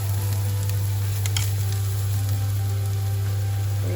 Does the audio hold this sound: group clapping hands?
no